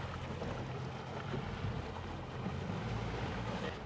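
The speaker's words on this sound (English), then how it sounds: "We keep our engine running at all times." A Suzuki 4-stroke outboard engine runs on a fishing boat off Western Australia, a faint, steady low hum blended with wind buffeting the microphone and water noise, without speech.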